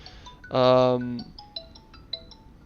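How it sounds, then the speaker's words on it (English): A phone ringtone plays as a sustained melodic tone for about a second over a quiet backdrop, followed by short faint beeps. "sorry, my phone"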